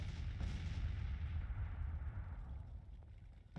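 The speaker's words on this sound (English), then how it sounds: "Have them, our artillery start targeting." Artillery fire in the Civil War strategy game Grand Tactician, during a Confederate 1864 campaign, rolls as a continuous low, heavy rumble of distant booms that ends with a fresh thud.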